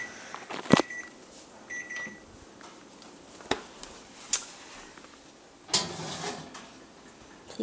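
A kitchen oven timer chirps a couple of brief high beeps near the start, followed by scattered clicks and clunks of handling close by in a quiet room.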